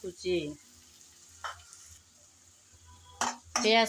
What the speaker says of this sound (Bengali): কিছুক্ষণ নেড়ে চেড়ে পেঁয়াজ ভেজে নিলাম